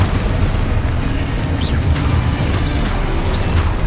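The Confringo explosive spell goes off in the video game Hogwarts Legacy as a loud, continuous rumbling boom with dense crashing texture, sustained for several seconds and with no voices.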